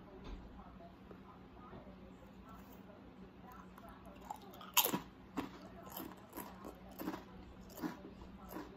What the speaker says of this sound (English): Today, I'm eating cheddar and sour cream chips